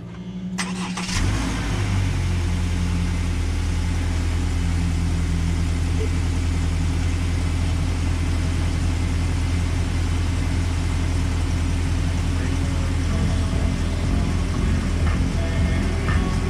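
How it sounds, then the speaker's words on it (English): A 2020 Subaru Forester Sport engine cranks and catches about a second in, then settles into a steady, close idle hum that continues to the end. "You wanna turn on the car"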